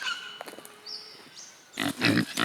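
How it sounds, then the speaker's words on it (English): Pigs grunt and snuffle at close range while eating daikon tops, with soft squeals and munching, then a louder burst of rooting noises near the end. "I'm gonna go feed it to the pigs and see if they like the top"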